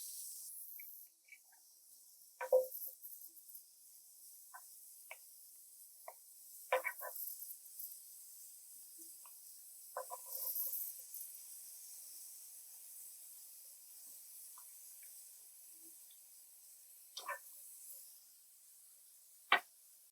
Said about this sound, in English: The ham is in the pan sauteing up for about a minute on each side